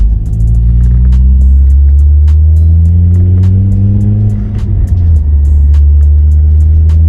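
A lowered Honda Accord Type-S on ARC coilovers drives through a residential area, its engine droning loud and steady from inside the cabin, the pitch climbing and then dropping back as it shifts gears, with no talking.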